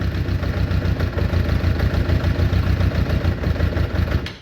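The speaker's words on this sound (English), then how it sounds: "It's running very lumpy. Doesn't sound like it's running on all cylinders here" A Suzuki Bandit 600 motorcycle engine just after starting, choke on, running lumpy and uneven as if not firing on all cylinders; a close, continuous low pulsing idle with irregular beats throughout.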